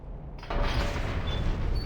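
A heavy gate crashes down in Mass Effect Legendary Edition, a sudden loud boom followed by a sustained, rumbling roar that fills the rest of the moment with no talk over it.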